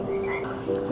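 A frog croak effect set into a children's song about green speckled frogs, a raspy croak running through the whole second over the song's music, fairly loud and close.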